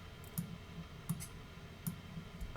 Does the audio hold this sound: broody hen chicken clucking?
no